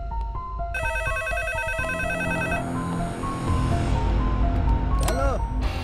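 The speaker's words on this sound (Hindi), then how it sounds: "कौन है जो बार बार फोन कर रहा है और बोल भी नहीं रहा है?" A telephone rings in a dramatic movie scene, an electronic tonal ring sounding in repeated bursts over background score and ambient noise, followed by a brief rising synthetic swoosh.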